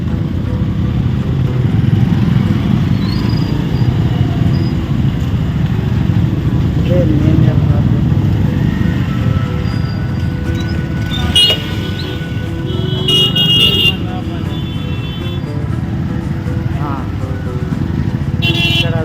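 Heavy Sunday road traffic crawling along a narrow stretch of road at Kaleshwaram during the Pushkaralu festival: a steady, loud low rumble of idling and creeping motorcycles and cars, with a few brief high horn blasts near the middle and people talking over it.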